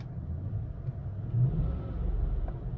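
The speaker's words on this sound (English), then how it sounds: "Let's give it a rev here." A 2003 Ford Thunderbird's engine rumbles low and close, with a short rise in revs partway through before settling back to a steady idle.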